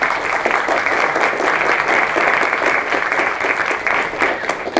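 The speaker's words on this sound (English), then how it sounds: "Round of applause." A conference audience breaks into sustained, loud applause to welcome a university robotics professor joining a panel on artificial intelligence, the clapping steady and dense throughout.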